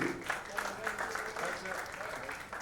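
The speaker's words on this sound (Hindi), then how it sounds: "लेडीज एंड जेंटलमैन, जोरदार तालियां" Applause rises at a press conference in Dubai for a live concert. The clapping is moderate and steady and runs for the whole stretch at a middling distance.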